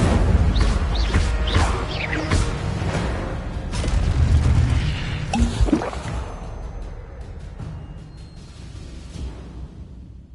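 Incendio fire spell cast in a Harry Potter video game, a loud rumbling whoosh and boom with crackling bursts that gradually fade into a quieter tail.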